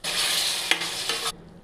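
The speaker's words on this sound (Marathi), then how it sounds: "आता फ्लावर टाकू." Cauliflower florets tumble into a hot pan of oil and spices with turmeric and chili, giving a loud, close, steady sizzle with a stirring scrape midway that cuts off abruptly.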